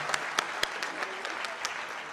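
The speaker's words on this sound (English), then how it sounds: "Let's give them another round of applause." An audience at a fall university opening convocation applauds after a choir performance, a moderate wash of clapping with a few sharp, close individual claps standing out.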